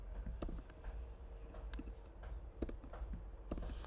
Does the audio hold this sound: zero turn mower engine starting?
no